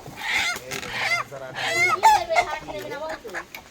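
Village hens cluck and squawk in short, close bursts while several people talk over them.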